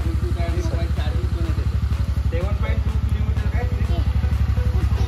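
The engine of a new scooter idles close by with a fast, even, pulsing chug that holds steady throughout.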